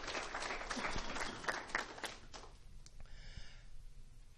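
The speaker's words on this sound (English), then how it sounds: "Let's give them a big round of applause." Audience at a county spelling bee breaks into dense, steady applause for the judges, loud at first and then thinning out over the last second or two.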